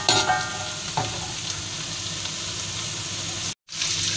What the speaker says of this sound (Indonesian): sekarang kita goreng tempenya